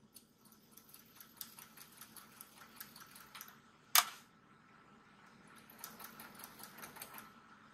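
A sewing machine with a zipper foot stitches alongside a zipper in a fast, even rattle, quiet and close, with one sharp click partway through.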